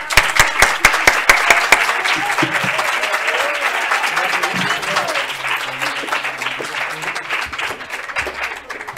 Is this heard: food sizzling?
no